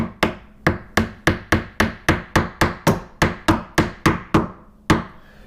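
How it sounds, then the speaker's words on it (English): A small ball peen hammer taps sharply about fifteen times at a steady, brisk pace while fixing a loose door hinge, each strike close and crisp with a short ringing decay, ending after a brief pause. "A little ball peen hammer, so this is going to be helpful there."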